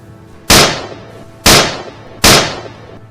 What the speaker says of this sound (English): my hunting partner also landed a perfect shot